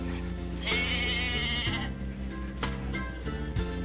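Sheep on a grandfather's farm bleat a few times over a steady low background hum, with a sustained higher bleat early on and shorter calls later, fairly close and continuous.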